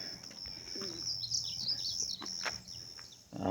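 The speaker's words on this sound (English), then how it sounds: "Yeah, I love to hear the birds sing." Small birds chirp and tweet outdoors during a morning walk, bright repeated calls at moderate distance over a faint steady background hum.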